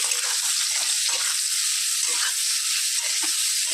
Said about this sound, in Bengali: নুনটা দিয়ে নিলাম, একটু নেড়ে নিলাম।